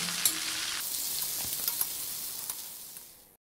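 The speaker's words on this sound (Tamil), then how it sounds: "இப்போ இதில் கட் பண்ணி வச்ச வெண்டைக்காய் சேர்த்து நல்லா வதக்கிக்கலாம்." Cut okra sautés with dried red chillies in a pan for a Tamil vendakkai poriyal, a steady close hiss of sizzling oil with light stirring clicks that fades out at the end.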